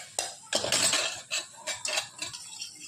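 Mysore pak mixture is stirred in a pan, a series of irregular close scraping and clinking strokes of a spoon against metal, each lasting under a second.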